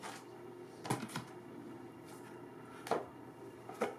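Tarot cards are shuffled by hand indoors, with a few short riffling bursts and soft shuffles spaced out over a few seconds, fairly quiet and close.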